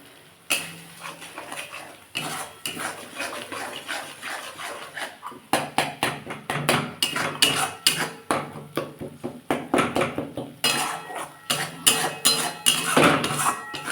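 A spoon scrapes and clinks rhythmically against a cooking pan while stirring chili powder and spices for Bengali doi fulkapi, a cauliflower-in-curd dish. The strokes are close and repeated, sparse at first and then coming quickly and steadily.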